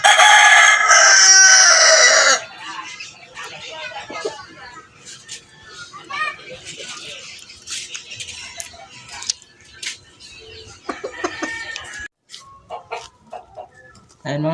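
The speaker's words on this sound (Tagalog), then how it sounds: "ito na yung binibinta kong manok oh" Hybrid chickens on a Filipino farm: a rooster crows loudly and close for about two seconds, then scattered clucks and calls continue while someone talks nearby.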